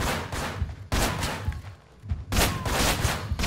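Gunfire in the video game Manhunt, with heavy bursts of shots from nearby coming in loud clusters separated by a brief lull.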